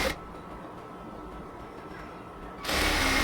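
Sewing machine stitching a baby palazzo waistband beside the elastic, a steady mechanical whir running continuously and ending in a louder, sharper burst near the end.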